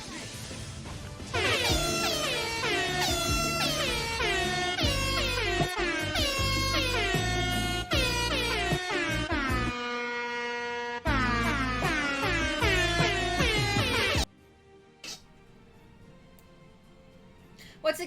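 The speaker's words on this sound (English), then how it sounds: "JoJo's favorite genre is air horn." Blaring air horn sound effect, loud and close, firing in rapid repeated blasts with sliding tones for several seconds, briefly pausing, then resuming before cutting off into near silence.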